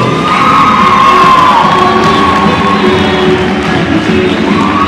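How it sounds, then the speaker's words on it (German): A comic-con audience in Vienna cheers and applauds for a cosplayer, a loud, sustained crowd roar full of whoops and high shouts with clapping underneath. "Ich bitte um einen riesen Applaus für Ichi Cosplay."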